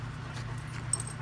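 Big old farm dogs whimper and pant faintly in short soft bursts over a steady low hum, with no one talking.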